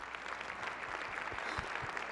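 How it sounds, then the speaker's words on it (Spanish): Applause from a conference audience for panelists after an IPv6 deployment panel, a soft, even wash of clapping heard from a distance, with a few louder claps standing out. "Les quería pedir, por favor, un aplauso a los panelistas."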